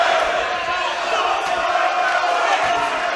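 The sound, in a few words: boxing crowd cheering for Billy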